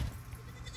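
A big nanny goat gives a short, low, close bleat while being milked, a brief nasal call over a faint background.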